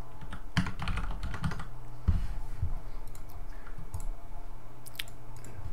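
Close, steady tapping on a computer keyboard while writing web code, quick irregular clicks with a few louder keystrokes, alone with no voice.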